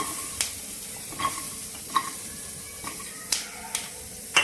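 Dry grated coconut roasts in a pan with peanuts, a soft rustling scrape as it is stirred, with occasional light clicks and taps of the spoon against the pan, quiet and close.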